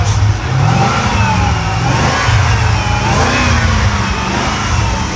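An electric BMW and other cars rev at a car festival, engine surges rising and falling loudly and continuously up close, with no talk over them.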